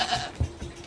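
A goat on a small farm bleats once, a short, fairly close call that stands out over the quiet barnyard background.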